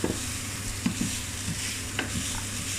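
Food sizzles steadily in a hot pan while a utensil stirs and scrapes it in a few distinct strokes, close up and with no voices over it.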